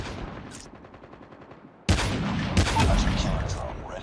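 Gunfire in the mobile game Call of Duty Mobile, with a sudden loud burst of shots after a quieter stretch of game noise, then sustained rapid firing with a faint voice underneath.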